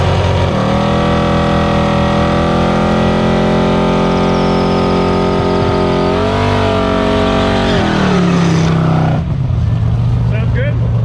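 A heavily modified 1968 Camaro Z28 race car engine idles loud and close with a deep, steady harmonic drone, briefly revving and dropping before settling to a lower idle near the end; a voice talks over it.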